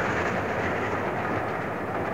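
A historic Victorian railway locomotive, on a line built by pick and shovel, runs past as a steady, loud rumble with a continuous rolling roar and no clear clicks or speech.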